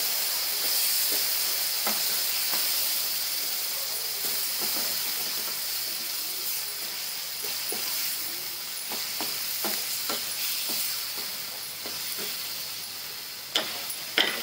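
Tomato gravy hisses and sizzles as it goes into a pan of fried onions. A steady steamy hiss is broken by scattered pops and clicks of stirring, with sharper knocks near the end.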